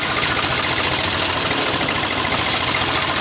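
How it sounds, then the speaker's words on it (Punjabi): A Sawraj 735 tractor's diesel engine runs hard and raced up, a loud, dense, continuous rumbling roar close by with a knocking edge and no talk over it. "ਆਹ ਦੇਖੋ ਆਵਾਜ਼ ਚੈੱਕ ਕਰਾਉਣਾ ਤੁਹਾਨੂੰ, ਦੇਖੋ ਕਿੰਨਾ ਮਰੀ ਜਾਂਦਾ ਟਰੈਕਟਰ"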